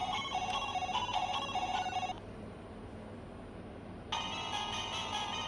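Chiptune music from a Game Boy cartridge game playing on a repaired handheld, with bright beeping melodic tones that drop out for about two seconds and then resume.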